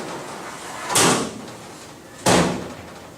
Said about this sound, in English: it's as simple as closing the doors,